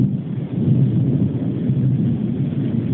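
Thunder from a lightning storm at Verudela rolls in a loud, deep, continuous rumble, close and sustained throughout with no voices.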